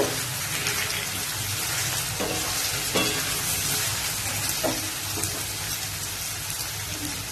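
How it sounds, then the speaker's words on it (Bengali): Chopped cauliflower sizzles steadily in hot oil in a pan while a spatula stirs it, with a continuous loud hiss broken by occasional scraping knocks, close up and without talking. "ফুলকপিটাও একবার নাড়িয়ে নেব।"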